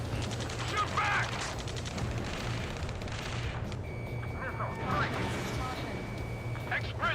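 Bursts of video-game gunfire in Ace Combat 7, a ground firefight in Ace Combat 7: Skies Unknown, crackle at moderate level beneath shouted voice chatter and a steady low hum.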